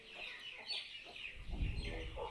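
Six-toed chickens at a mountain village home cluck in short, scattered calls at close range, with a low rumble of handling noise and no speech.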